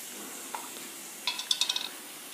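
Cubed tomatoes are stirred in a pan for a chicken tikka pizza topping, giving a faint hiss under a quick run of light metallic spoon clinks and scrapes near the end.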